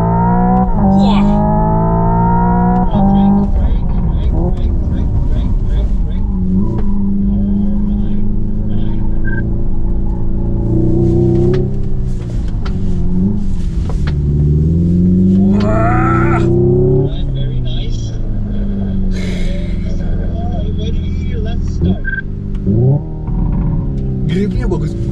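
A Hyundai Ioniq 5 N electric car plays its simulated engine sound while being driven hard on a circuit in Korea, a loud close droning tone rising and falling through shifts, with occasional voices inside the cabin.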